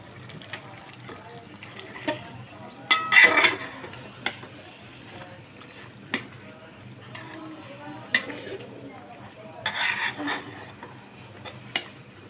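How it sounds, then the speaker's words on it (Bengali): Beef being stirred into a spiced masala in a pot, with intermittent scraping and clacking spoon strokes and wet squelches, close by, spaced irregularly with quieter stretches between. "এখন এগুলোকে কষিয়ে নিচ্ছি, লাড়তেছি, লেড়ে ভালো করে মিশ্রিত করতে হবে।"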